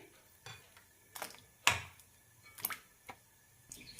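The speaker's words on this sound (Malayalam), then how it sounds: "ഇതിലേക്ക് ഇനി പഴത്തിൻ്റെ കഷ്ണങ്ങളിടാം" Banana pieces dropped one after another into a pan of water, several sharp knocks and clinks spaced irregularly, close by with quiet between.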